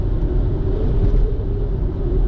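Car driving along a road toward the east coast of the Keweenaw Peninsula in stormy gale conditions, a steady loud low rumble of engine and road noise filling the cabin without pause.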